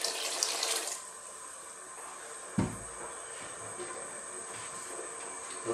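Water poured from a tap into a soup pot for homemade chicken noodle soup, a steady close hissing splash with a brief knock partway through and another at the end.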